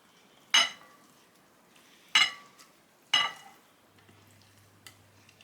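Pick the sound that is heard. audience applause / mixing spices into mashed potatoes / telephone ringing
mixing spices into mashed potatoes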